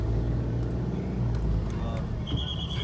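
A car on a busy Himachal Pradesh mountain road drives into a road tunnel, giving a steady, loud low rumble of engine and road noise heard from inside the vehicle.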